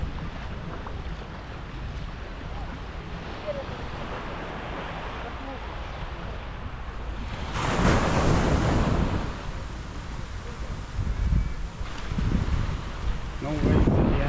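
Waves washing onto rocky Surin Beach in Phuket, a broad steady wash under wind noise that swells in a louder surge midway, with a few more surges near the end; a person talks faintly in the background.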